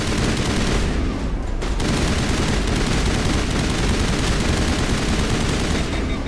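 Sustained rapid assault rifle fire from a Mass Effect Legendary Edition barfight rattles loudly and continuously, dense and close, with a brief dip before resuming.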